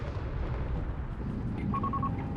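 Company of Heroes 3 World War II battle: a continuous rumble of distant artillery and gunfire, dense and steady at moderate loudness, with a few faint beeping tones near the end.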